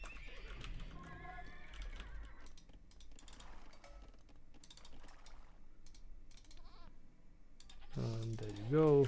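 Video-game sheep and horses: a horse whinnies and clip-clops while sheep bleat, mixed with light mouse and keyboard clicks, and a sharp, loud neigh rises at the end.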